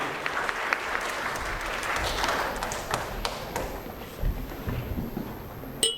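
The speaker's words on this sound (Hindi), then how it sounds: "जोरदार तालियों से हम स्वागत करेंगे मिस मृणाली।" Loud applause at an IT Olympiad award ceremony welcoming a woman teacher to the stage, sustained crowd clapping with a few sharper taps and thumps standing out near the end.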